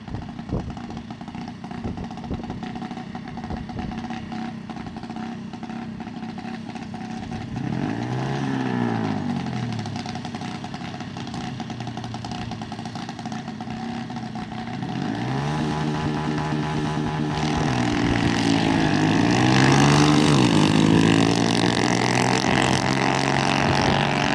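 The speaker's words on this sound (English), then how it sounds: "the Grom and some young dragster going at it" A Honda Grom motorcycle and a young dragster race at a drag strip. Engine tones rise and fall through repeated revving, louder toward the end, under a steady background rumble of the crowd and track.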